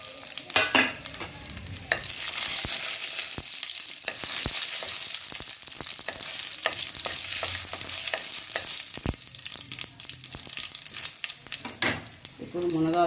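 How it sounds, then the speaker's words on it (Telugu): Dry red chillies and mustard seeds sizzling and spitting in hot oil in a pan, a loud continuous close crackle with sharp pops and stirring scrapes, no talking. "బాండ్లీ పెట్టి ఆయిల్ కాగింది. ఇప్పుడు ఎండుమిర్చి, ఆవాలు వేసేస్తున్నామండి."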